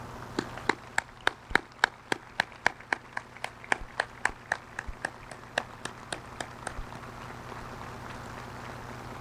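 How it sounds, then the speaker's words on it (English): An audience at a high school graduation ceremony claps for a retiring officer, sharp distinct hand claps in a steady rhythm, fairly few people close by, thinning slightly toward the end. "Please join me in a round of applause to recognize his service to our community."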